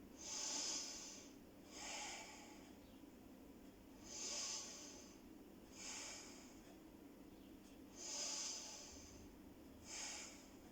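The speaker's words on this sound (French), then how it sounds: "On joint nos 2 mains et on respire 3 fois." Slow, deep breaths during a children's yoga session come in three paired inhale-exhale cycles, each airy and breathy, fairly close and quiet, evenly spaced with soft pauses between.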